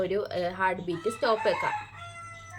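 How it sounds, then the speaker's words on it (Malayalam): A rooster crows nearby in a short, loud burst that overlaps someone talking. "ഈ കോഴി നല്ല സൗണ്ട് ഉണ്ടാക്കുന്നുണ്ട് കേട്ടോ"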